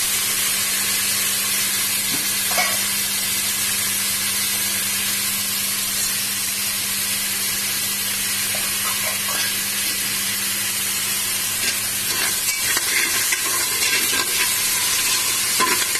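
Onions frying with salt in oil in a pan for bun parotta with mutton kulambu, a constant close hiss and sizzle, with occasional stirring scrapes toward the end.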